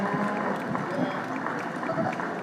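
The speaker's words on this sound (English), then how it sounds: "Please give them a nice round of applause for the very," An audience at a county fair market steer show applauds young exhibitors, a steady, dense round of clapping that lasts the whole moment with faint crowd murmur underneath.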